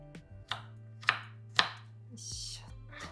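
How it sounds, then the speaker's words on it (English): Knife chopping mushroom or daikon into small pieces on a cutting board, three sharp distinct chops spaced about half a second apart, close and clear, with a brief rustle afterward. "Just chop into small pieces."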